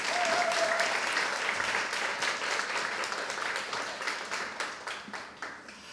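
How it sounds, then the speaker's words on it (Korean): An audience at an orchestra concert claps warmly, the applause loud at first and then thinning into scattered claps as it dies away. "자, 그럼 여러분 박수 부탁드리겠습니다."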